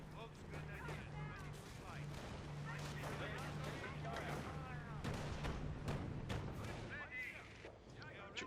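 Autocannon fire in a Company of Heroes match, with rapid gunfire bursts and booming artillery mixed into battle noise, heard under continuous commentary.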